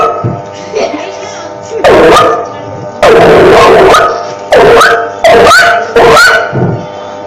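A man imitating a small puppy barking, giving a series of sharp, loud yips and yelps in close bursts separated by short pauses, with spoken voice between them.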